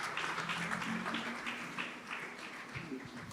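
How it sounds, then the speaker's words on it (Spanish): A church congregation at a Sunday service applauds in worship, a soft, somewhat distant patter of many hands clapping, with faint tonal music or voices lingering underneath and the level dipping midway. "Dale un fuerte aplauso al Señor"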